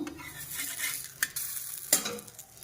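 Aloo paratha toasting on a hot pan: a soft, quiet sizzle with a couple of sharp utensil taps and scrapes close by, no voices.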